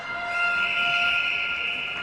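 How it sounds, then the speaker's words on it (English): A referee's whistle at a netball match sounds as one long, sustained blast that holds steady for about two seconds. "the whistle has blown"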